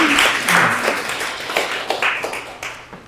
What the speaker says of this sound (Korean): 박수 나올 시점입니까?